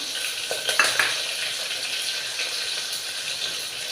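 Two dried red chilies sizzle in hot oil in a pan for a cluster bean and tomato curry, a steady hiss with a few sharp spattering pops early on and no talking.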